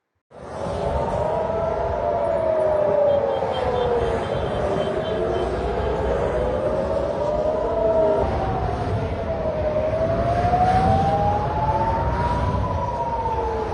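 An air raid siren sounds in Israel during an Iranian missile attack, a loud continuous wail slowly rising and falling in pitch for the whole stretch, steady over a faint rumbling background.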